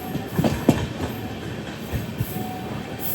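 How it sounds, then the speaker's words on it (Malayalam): Heard from aboard, the Amrit Bharat Express rolls into Virudhunagar Junction, a steady low rumble marked by a few rhythmic wheel thumps and a faint squeal near the end. "ട്രെയിൻ ഇപ്പോൾ ബിരുദനഗർ ജംഗ്ഷനിലേക്ക് എത്തുകയാണ്"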